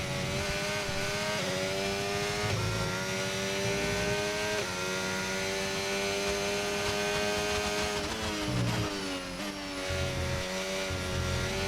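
A race car engine in the F1 25 video game drones steadily at high revs throughout, with smooth pitch sweeps as it shifts gears and accelerates, loud and continuous with no talk.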